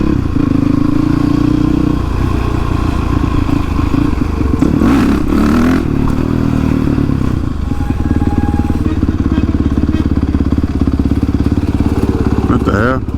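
Honda CRF 450X supermoto motorcycle engine revving loudly and steadily through the whole stretch, rising in pitch as the bike pulls in second gear, with brief clatter and a voice talking over it.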